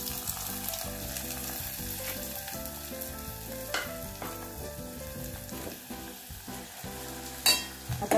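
A tomato is added to a pan of sautéed green chillies and fries with a steady, soft sizzle, with a few stirring clicks, all under continuous background music.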